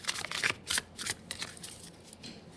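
Tarot cards are shuffled by hand, a quick series of close, crisp riffling bursts that taper into softer rustles.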